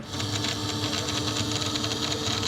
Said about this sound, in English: The beauty of this machine is that the computer just sends the information like it would to an inkjet printer